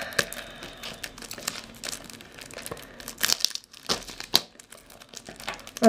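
Crinkling and tearing of a 250-gram package of Kenyan Premium Miras classic tea as it is opened, close crackling of plastic wrap with a few sharp rips.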